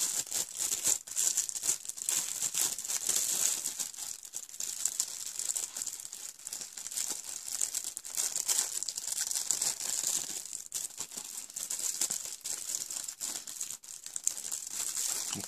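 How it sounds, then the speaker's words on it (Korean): Plastic sleeve crinkling continuously as it is worked over a Final Fantasy XV Ultimate Collector's Edition box, a steady close, dense rustle with scattered sharper crackles and no talking. "비닐에다가 씌워서 보관만 하도록 하겠습니다."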